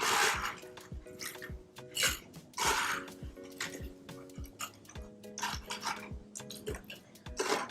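Ice being scooped and dropped for a cocktail shaker while making a sorrel mocktail, with clinks and rattles of cubes against metal and glass in irregular bursts, fairly quiet and close, alongside a faint steady hum.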